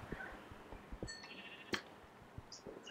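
Sheep in Minecraft bleat softly in the background amid scattered game clicks and footsteps, with short wavering calls that sit low and faint in the mix.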